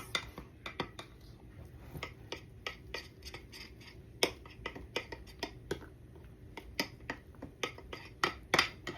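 A spoon clinks and scrapes against a bowl while teal cake icing is mixed, giving a steady run of sharp ticks and taps, close by and fairly quiet, with no talk.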